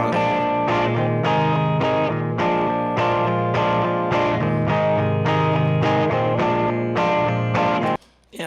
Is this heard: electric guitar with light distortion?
yes